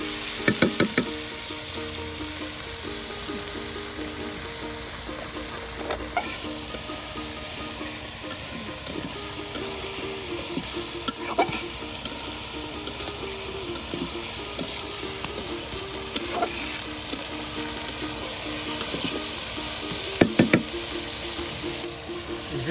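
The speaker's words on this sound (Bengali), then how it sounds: "পেঁয়াজের সাথে তেলের সাথে মিক্স করে নেওয়া হচ্ছে দেখুন একদম ভাজা ভাজা করে নেওয়া হচ্ছে পেঁয়াজগুলো" Steady sizzling of onions frying in oil fills the clip, with occasional scraping stirs and clinks from a pan.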